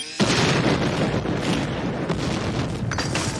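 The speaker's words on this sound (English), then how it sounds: "Raimi was knocked out in the explosion" A loud explosion from the 1994 cyberpunk horror film Death Machine bursts in sharply and then rolls on as a dense, sustained roar of blast and debris, with no talk over it.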